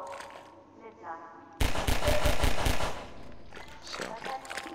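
Loud rapid gunfire from the video game Half-Life 2: Episode Two breaks out suddenly as a dense burst of repeated shots lasting over a second, then falls back to quieter game ambience with a voice talking.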